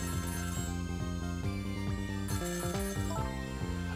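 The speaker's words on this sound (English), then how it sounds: "The phone is ringing." A telephone rings in the video game Ghost Trick, a repeated electronic ringing pattern of bright chiming tones over a steady, loud musical backdrop.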